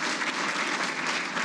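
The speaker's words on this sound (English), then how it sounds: "Let's give that sailor a round of applause." Steady applause from an audience at an indoor hall-of-fame ceremony, a dense, even clatter of many hands clapping for the whole stretch without pause.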